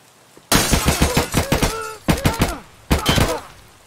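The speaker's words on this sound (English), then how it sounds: "I'll shoot you inside." Gunfire from Escape From Tarkov, heard as three bursts of rapid, loud shots, close by, broken by short pauses and cut off sharply.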